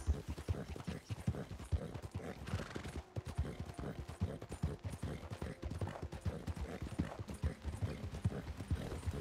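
Horse hooves gallop in a fast, continuous rhythm of thudding clip-clops in the Red Dead Online video game, with a steady gait kept up throughout.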